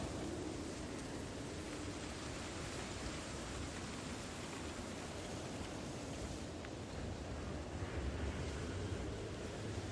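Strong, continuous blizzard wind in Project Zomboid roars steadily throughout, a dense rushing noise with no breaks and no voices.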